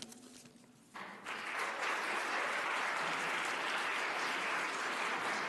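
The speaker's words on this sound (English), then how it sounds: "If we can refrain from applause, I would really appreciate it." Applause fills a city council meeting room, starting after a quieter moment and swelling into sustained, dense clapping from the audience that carries on steadily to the end.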